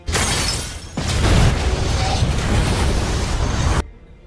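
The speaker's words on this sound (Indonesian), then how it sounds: "sebelum kapal itu meledak" A ship explodes in the action film Mechanic: Resurrection, a dense roaring blast that swells after a second and rumbles with debris before cutting off sharply.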